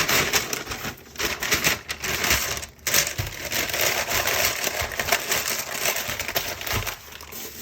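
Brown paper bag crinkling and rustling continuously as a foil-wrapped cassava bundle is folded into it, close and busy with sharp crackles throughout.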